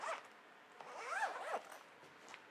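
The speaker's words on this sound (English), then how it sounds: "Zip this thing up" Zipper closing the fabric carry case of a MOKIN 120W portable folding solar panel: a few quick close zipping pulls, the longest rising and falling in pitch, fairly quiet with small gaps between strokes.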